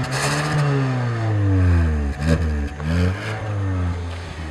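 The turbocharged engine of a 2015 Hyundai Sonata Turbo, front-wheel drive with a six-speed automatic and paddle shifters, revs up as the car accelerates, its pitch climbing through gear changes in a steady, fairly loud drone from inside the cabin.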